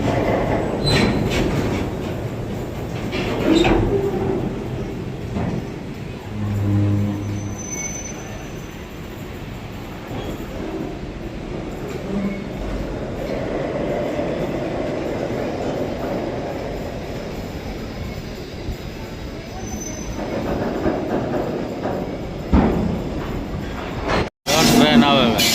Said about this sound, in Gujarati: ટ્રેન આવે ભાઈ.